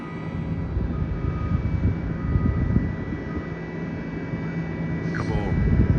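Airplane at Southern California Logistics Airport in Victorville, where FedEx and UPS cargo planes are parked, gives a steady, moderately loud engine rumble that holds through the whole stretch, with a faint rising whine near the end.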